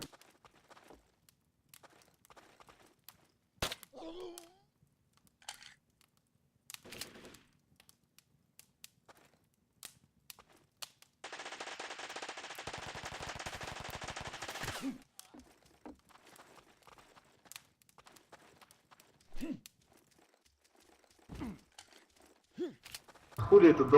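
Gunfire from a shooter video game crackles in scattered single shots, then a dense burst of rapid automatic fire runs for about four seconds, with players talking over the action.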